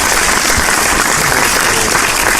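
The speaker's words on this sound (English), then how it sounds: "Let's get some golf claps for that." A crowd gives dense, steady applause of golf claps, loud and continuous, with no voices over it.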